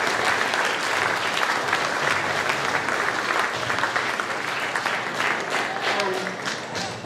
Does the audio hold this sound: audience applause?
yes